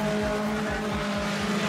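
A super sedan race car roars past on a speedway at Carina, a loud, close, rising and falling engine note with rapid revving pulses over a brief stretch.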